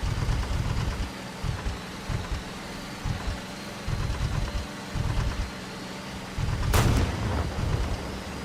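A tank cannon fires once in a multicrew tank combat video game, a sharp loud blast near the end over a rumbling, idling engine that surges and drops in bursts.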